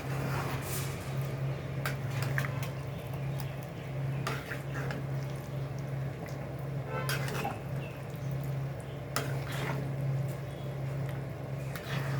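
Homemade tamarind pickle being stirred in a pan, with occasional wet scrapes and soft sticky clicks over a steady low hum, close and fairly quiet with no speech.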